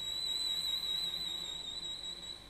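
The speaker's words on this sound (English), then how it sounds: "so you get that kind of whistling sound" A thin, high, steady whistling tone from a cello played near the bridge, held evenly and fairly quiet throughout.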